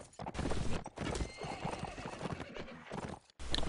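Rapid hoofbeats clatter as a horse gallops in a video game, with a loud whinny breaking through, close and energetic over busy game background noise.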